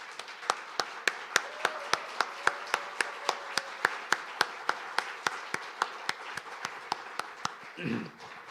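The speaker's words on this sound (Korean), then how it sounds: "잠깐 일어나서 우리 박수 한번 할까요?" A church congregation at a Sunday service claps together in a steady, even rhythm of sharp, loud beats that runs throughout, with a brief murmur of voices near the end.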